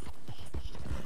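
Horse hooves clip-clopping in Red Dead Redemption 2, a quick run of soft, fairly close hoofbeats in an uneven walking rhythm.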